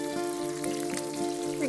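Katla fish belly pieces fry in hot oil, a steady soft sizzle with faint crackles, close and continuous under a tonal background hum.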